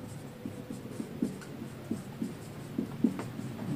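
A pen or pencil writing by hand during a Bengali logic lesson, with short, regular scratchy strokes repeating about every half second. The strokes are close and fairly quiet against a soft steady background hiss.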